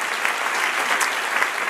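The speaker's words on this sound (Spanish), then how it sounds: "Dale otro aplauso, Señor." A church congregation applauds during a sermon, a thick, continuous wash of clapping held at an even level throughout, with no voices on top.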